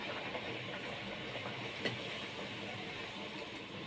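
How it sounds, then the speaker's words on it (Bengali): Luchi, puffed Bengali flatbread, deep-fry in hot oil with a steady, even bubbling hiss at moderate level, close by and continuous, with one small pop midway. "লুচি ভাজা শুরু করে দিয়েছি।"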